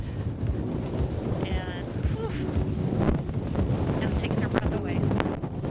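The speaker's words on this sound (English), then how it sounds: "Today is a super windy day. We've got wind at 18 knots with gusts up to 36." Strong wind gusts of about 18 knots, up to 36, buffet the microphone at a boatyard, a loud roaring rush with surges, while a person speaks briefly over it.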